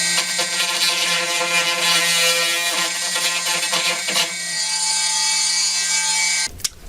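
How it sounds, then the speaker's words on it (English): An orbital cutter buzzes loudly and steadily while it trims a rectangular opening for a dimmer switch box in an RV wall. Its whine shifts partway through and then ends in a sharp clunk. "I'm going to mark that opening and then use my orbital cutter to open up that hole a little bit."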